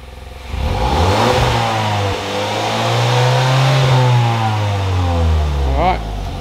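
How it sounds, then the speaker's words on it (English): A Hyundai i30 N-Line with an Xforce catback exhaust revs with its exhaust valves closed, a steady rising and falling engine drone held for several seconds, close and loud, with a brief voice near the end. "Give it another rev. Now valves closed."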